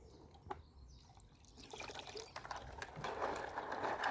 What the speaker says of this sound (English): So put a little bit of this pond water in here